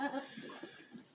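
Goats on a farm bleat in short, wavering cries, faint and fairly close, with a few quieter bleats following the first.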